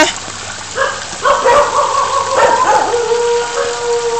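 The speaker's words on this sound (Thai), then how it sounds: "เอ้ย เห่าทำไม" A dog barks and lets out howling, whining cries close by, with a faint voice underneath, on a street during flooding.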